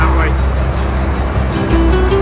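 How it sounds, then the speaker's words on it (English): Steady traffic roar from the M6 motorway, heard from a canal towpath by a motorway bridge; a continuous low broadband rumble with passing-vehicle swells, loud and close throughout. "excuse the noise of the M6"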